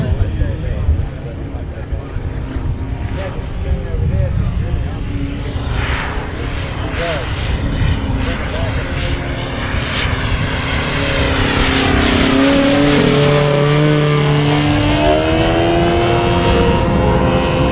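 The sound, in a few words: RC Beechcraft T-34 Mentor model plane doing a flyby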